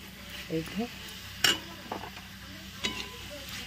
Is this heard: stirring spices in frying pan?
yes